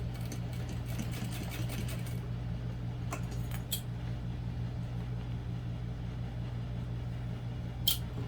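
Sewing machine stitching a seam on a fabric barrel bag, a steady close whirring motor hum running continuously with a few faint clicks and rustles of the fabric.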